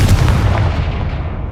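A Confringo fire spell blasts in Hogwarts Legacy with a loud, close booming burst that rumbles and fades quickly over about a second.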